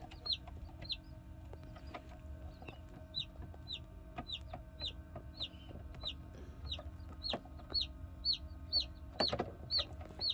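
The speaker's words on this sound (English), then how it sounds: "He's a chirping, carrying on." Newly hatching chicks in an incubator give rapid, high, repeated peeping chirps, steady and close, over a low background hum with occasional soft knocks and rustles.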